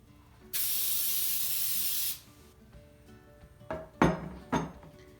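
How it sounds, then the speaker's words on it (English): A single spray of cooking oil hisses for about a second and a half onto a baking pan, followed by a few light clinks of the pan being handled. "we just want to do a quick little spray, make sure nothing sticks."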